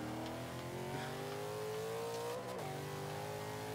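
Ultima GTR race car engine in Forza 5, revving hard at a steady high pitch and then dropping through a downshift partway in, loud and continuous with no talk over it.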